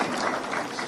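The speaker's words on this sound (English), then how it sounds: "Maybe a round of applause for people who are actually doing a good job with that." Brief applause from an audience at a business and investment talk, a short burst of dense clapping lasting under a second.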